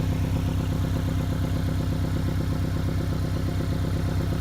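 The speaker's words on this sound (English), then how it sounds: "As you'll hear, it's a pretty aggressive sounding 4-cylinder." A Porsche 718 Cayman's 300-horsepower turbocharged four-cylinder boxer engine runs with a steady, rapid, throbbing pulse. It is close, even in level and heard alone.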